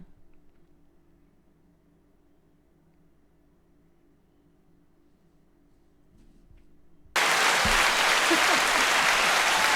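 After several seconds of near silence, a crowd's applause cuts in abruptly on a comedy podcast and continues loud and even to the end.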